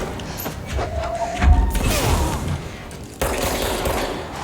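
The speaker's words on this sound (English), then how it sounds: "Oh, somebody's shooting me." Scattered gunfire and heavy thuds from a firefight in Control crack through a busy game mix. A low impact stands out early and a second burst of shots follows after a short lull.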